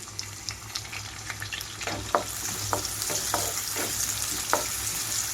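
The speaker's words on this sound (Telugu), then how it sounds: "ఇక్కడైతే ఆయిల్ అంతా హీట్ అయిన తర్వాత ఉల్లిపాయలు, పచ్చిమిరపకాయలు వేసి వేయించుకుంటున్నాను" Onions and green chillies fry in hot oil with a steady close sizzle, punctuated by short scraping stirs and light clinks from a utensil in the pan, with no voices.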